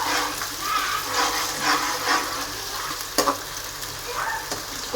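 Onions frying and being stirred in a pan for chicken curry, a soft continuous sizzle with scraping spoon strokes and a couple of sharper clinks, faint and close.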